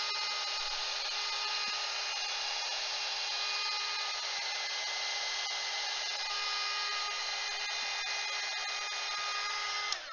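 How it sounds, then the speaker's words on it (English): Heat gun blowing hot air in a steady, unbroken high whine and whoosh for about ten seconds, close and loud, ending with a brief click as it switches off. "hold down the picture with the heat gun"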